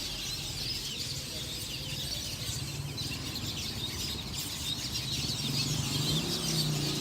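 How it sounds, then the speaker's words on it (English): A dense crowd of birds shrieks and chatters nonstop from a tree on a street in Santiago's Dominican neighborhood, a loud, steady wall of overlapping calls lasting throughout. "there's like a million birds screaming"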